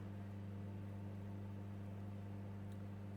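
A microwave oven runs with a steady, even electrical hum and a low, constant drone. Nothing else is heard and the level never changes.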